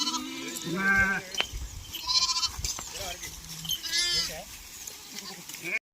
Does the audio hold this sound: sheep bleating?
yes